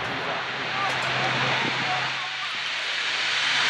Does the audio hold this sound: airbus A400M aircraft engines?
yes